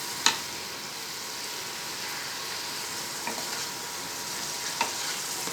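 Food stirred and fried in a pan as the water cooks off, with a steady sizzle and a few sharp spoon clacks against the pan near the start, midway and near the end, and no talk.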